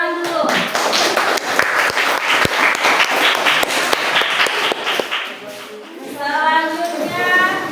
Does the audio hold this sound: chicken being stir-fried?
no